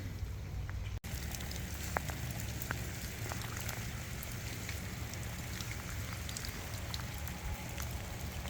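Heavy rain pours onto a flooded garden and pond, a dense, constant patter with scattered sharper drops close by, and nobody speaks.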